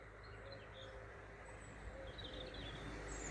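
Faint birdsong with scattered chirps and short calls drifts over a low, constant hum of distant traffic at an allotment, quiet and far-off throughout.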